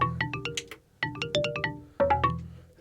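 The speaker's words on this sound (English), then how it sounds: "xylophone." Xylophone preset on a Studiologic Numa X Piano GT stage keyboard, playing three quick runs of bright, sharply struck mallet notes, each run decaying fast before the next begins.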